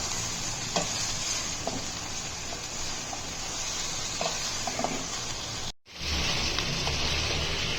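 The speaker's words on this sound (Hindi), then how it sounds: "गोश्त को भूनेंगे प्याज और खड़े मसालों के साथ जब तक गोश्त का कलर चेंज नहीं हो जाता।" Beef fries in a pot with onions and whole spices, a dense continuous sizzle with occasional scraping stirs and clinks, close up, with a brief drop in sound partway through.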